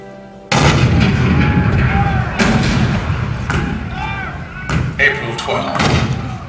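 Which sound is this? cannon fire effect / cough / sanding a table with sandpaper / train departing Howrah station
cannon fire effect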